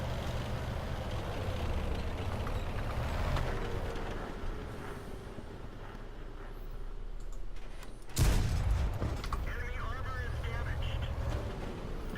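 A single heavy tank cannon blast from a World of Tanks battle bursts out about two-thirds through, loud and sharp over a steady low engine rumble.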